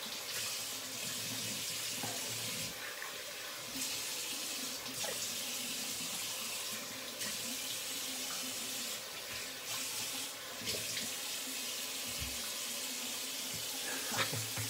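A tap runs steadily into a sink for a cold water rinse, a continuous hissing splash with slight shifts as something is moved under the stream, with no talking.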